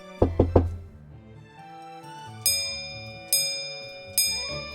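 Three quick, loud knocks on a door ring out close together near the start, followed by a few sustained bell-like chimes with soft musical tones underneath.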